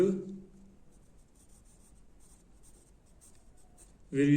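Pen or pencil writing out an English grammar exercise answer makes faint, quick scratchy strokes in short bursts, quiet and close, with a voice speaking briefly at the start and again at the end.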